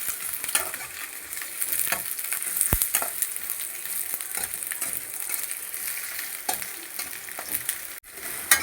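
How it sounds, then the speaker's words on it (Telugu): Chopped onions fry in a pan for a mutton ghee roast. A continuous, even sizzle sounds up close, broken by scattered scraping strokes and clicks of stirring, with no talking. "ఇప్పుడు కాస్త చాప్ చేసుకున్న ఆనియన్స్ కాస్త దూరగా వేయించుకుందాం."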